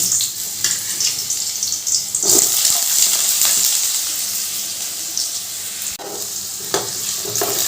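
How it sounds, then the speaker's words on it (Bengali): Diced potatoes tipped into hot oil already spiced with cumin, a dried red chilli and cinnamon pieces, crackling and sizzling steadily up close, with scraping stirs and a brief burst of louder frying partway through; no voices. "এবার ওই তেলের মধ্যে দিয়ে দিচ্ছি ডুমো করে কেটে রাখা আলু"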